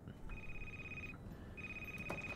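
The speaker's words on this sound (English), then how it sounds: "Let's pick up the phone." A phone rings in the horror game Crimson Snow, two long electronic trills separated by a brief pause, fairly faint over a hushed ambient background with no talk.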